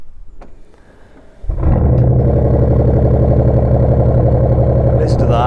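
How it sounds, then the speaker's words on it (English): A Bentley V8 fitted with an Akrapovic sports exhaust cranks and fires up, then settles straight into a loud, deep, throbbing idle that carries on close by, with a person's voice audible just before it starts. "Oh yeah, proper fruity V8."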